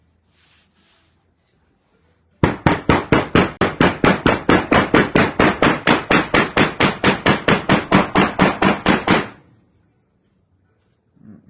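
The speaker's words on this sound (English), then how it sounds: "Pull out your hammer." Rapid, even hammer blows strike repeatedly for about seven seconds during leatherwork on a handmade briefcase, each hit sharp and close, with quiet pauses before and after.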